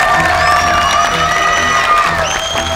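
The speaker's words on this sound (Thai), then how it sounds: "ขอเสียงปรบมือให้เอตาหน่อยค่ะ" A studio audience at a children's cooking competition cheers and whoops for a young contestant, a loud, dense crowd roar with shouting voices and some clapping that stays strong for the whole few seconds.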